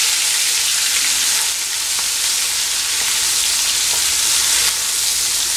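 Ground onion paste sizzles and fries steadily in hot oil in a pan, a dense continuous crackle with no talking, made while cooking a Chettinad egg curry.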